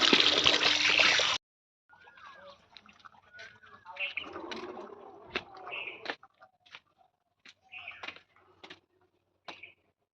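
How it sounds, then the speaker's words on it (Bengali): A kitchen tap runs with a strong close gush over vegetables such as pointed gourd for about a second and a half, then shuts off. Soft clinks, drips and a talking voice follow. "তো সবজিগুলো ভালোভাবে কল দিয়ে ধুয়ে নিচ্ছি।"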